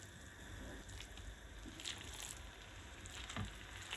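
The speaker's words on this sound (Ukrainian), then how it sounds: "Я буду смажити е, м'ясо, фарш на вершковому маслі так буде смачніше" Minced meat frying in butter in a pan, a faint, steady sizzle and soft crackle with occasional small pops and wet squishes, no voices present.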